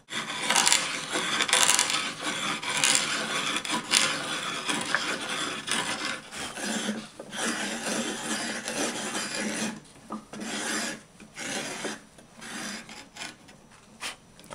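A rough, rasping scrape of a wooden rod being turned through a thread box, in uneven strokes with brief pauses, close and fairly loud.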